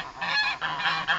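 Geese honk loudly and close by in a quick run of about four nasal calls, one after another, with no other sound around them.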